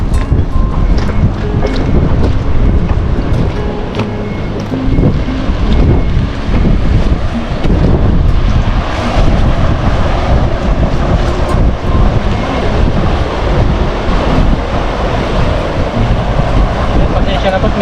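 Strong wind at an outdoor fishing spot buffets the microphone as a loud, continuous roar with gusty surges that lasts the whole stretch.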